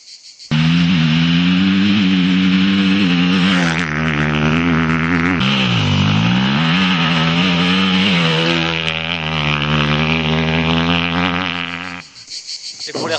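An enduro motorcycle engine screams at high revs, the pitch climbing and then dropping sharply as gears shift, loud and close before cutting out briefly near the end.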